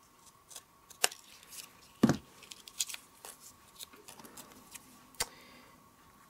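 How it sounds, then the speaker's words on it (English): Scissors snip across stacked paper badges in a few sharp, quiet cuts at scattered moments, with faint rustles of paper between them and no talking. "Pop them together like that so they're stacked on top of each other, and just snip right across."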